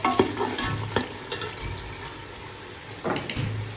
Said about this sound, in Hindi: दही को जो अच्छी तरह से मैंने मिक्स किया है।